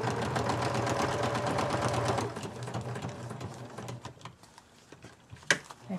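A sewing machine stitches through a paper-bag mini journal in a fast, steady mechanical chatter for about two seconds, then slows and stops, leaving faint clicks and handling noise.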